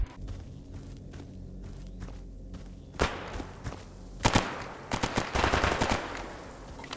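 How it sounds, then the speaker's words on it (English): Scattered gunfire in the video game S.T.A.L.K.E.R.: Anomaly, a few single shots first, then quicker clustered bursts toward the end, moderately loud over a low ambient rumble with no voices. "What's everybody firing at?"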